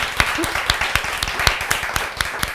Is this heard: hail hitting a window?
no